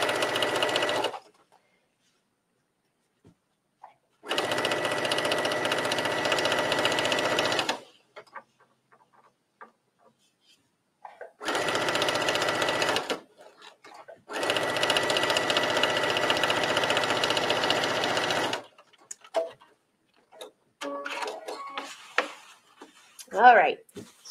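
Sewing machine running straight stitches along the edge of fabric under the presser foot, in several steady loud bursts of a few seconds each separated by pauses, with small handling noises near the end.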